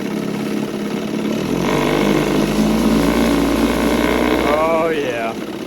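A 1972 Johnson 6 hp outboard motor, freshly carb-rebuilt, runs in gear with a steady close buzzing drone that swells as it loads up. A voice speaks briefly near the end.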